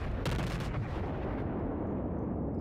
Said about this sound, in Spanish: Siente la artillería de la Omaha.